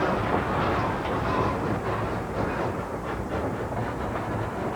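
A steam locomotive and its train roll along the track with a steady, loud rumble, faint rhythmic clicking of the wheels and some hiss, continuous with no talk.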